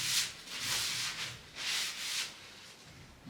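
Bristles sweep in repeated long, hissing strokes over a waxed ski base, a close, soft rhythmic brushing with brief pauses between passes and no talking.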